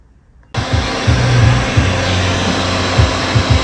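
A heat gun switches on abruptly and runs with a loud, steady blowing roar while warming the plastic fingers of a skeleton prop, with a low fluttering hum that wavers as it moves.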